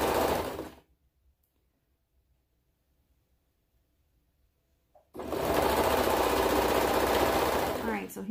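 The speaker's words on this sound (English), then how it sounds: "So go ahead and serge around." Serger sewing around a toddler hoodie: a loud, fast steady machine whir in two bursts with a silent pause between, close up, no talk.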